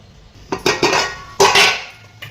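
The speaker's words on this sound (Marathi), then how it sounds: "त्यावर झाकण ठेवूया आणि आता हे शिजवून घेऊया" Metal lid set on a pan of cooking spring onion greens, a few close clanking and clinking knocks as it is fitted and settles into place, with no speech.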